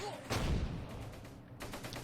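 Gunfire in the Close Combat: Gateway to Caen war game: a heavy, booming shot opens, followed by rumbling fire and a second burst near the end, at moderate volume.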